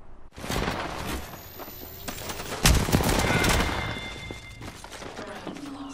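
Bursts of automatic gunfire from the battle royale shooter Apex Legends crackle loudly and continuously, with a heavy thump partway through and dense overlapping shots throughout.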